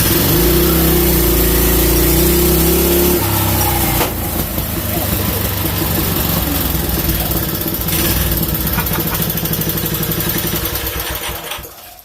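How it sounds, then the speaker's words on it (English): A Vevor 30 series CVT belt-drive mini-bike engine with a modified intake and exhaust revs hard at wide open throttle, a loud, close, rough buzzing roar that holds steady and then winds down near the end. "it revs wide open now with the intake and the exhaust"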